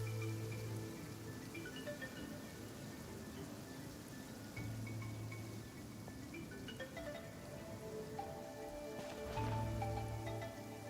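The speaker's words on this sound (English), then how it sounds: "Taking a stroll in the middle of a downpour certainly rouses the spirit." Rain downpour in a video game, a steady soft hiss of falling drops with faint tonal music and low hums layered in, fairly quiet and continuous.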